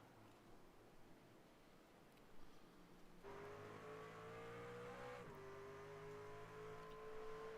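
Race cars in the iRacing sim game pull away from pit road after a stop for four tires and fuel, engines droning loud and steady with rising tones as they accelerate off together.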